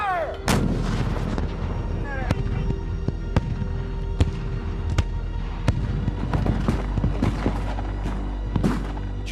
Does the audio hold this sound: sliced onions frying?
no